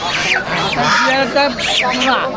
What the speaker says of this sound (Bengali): এখানে কাকার কাকি কিছু রাজহাঁস নিয়ে আসেন